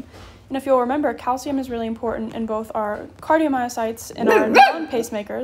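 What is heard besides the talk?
dog barking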